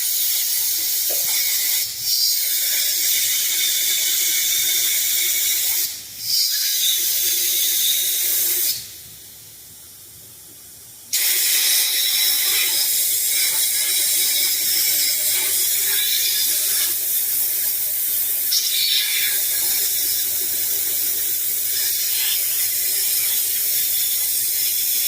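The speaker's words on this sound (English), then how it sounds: "I'm also going to blow through these front passages." Compressed air is blown through the carburetor passages of a Timberwolf ATV that hasn't run in a year, giving a steady loud hiss with short bursts and one brief pause in the airflow.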